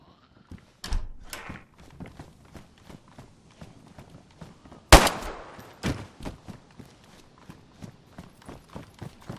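Gunfire in the survival video game DayZ: a few sharp, loud shots spaced seconds apart, the strongest near the middle, with quieter footstep-like rhythmic thumps running throughout.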